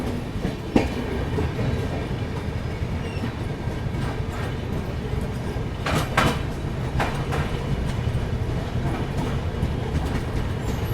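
A Duronto Express train running on Indian rails and crossing another train, with a steady loud rumble, rhythmic wheel clatter and sharp whooshing bursts as the passing train rushes by.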